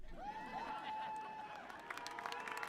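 A graduation audience in a high school ceremony laughs and cheers, and scattered clapping builds toward the end. The sound is moderately distant, and a sustained tone rings underneath.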